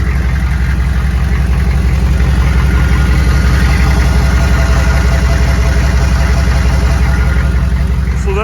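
An abused 6.5 turbo diesel truck engine, treated with Bars Leak head sealer for a coolant leak, idles steadily and loudly at close range, with a constant low rumble and a rhythmic knocking clatter throughout.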